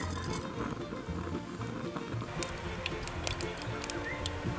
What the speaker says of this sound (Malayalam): കടുകിട്ട് പൊട്ടട്ടെ